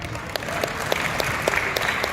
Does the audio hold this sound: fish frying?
no